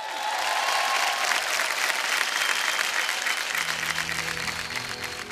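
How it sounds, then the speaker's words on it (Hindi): Loud, sustained applause from an audience at an awards show for the singer Papon, thick steady clapping and crowd noise throughout, with a musical tone entering underneath near the end. "प्लीज एक बार जोरदार तालियां हो जाए फॉर पैपोन।"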